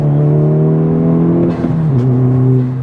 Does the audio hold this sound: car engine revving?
yes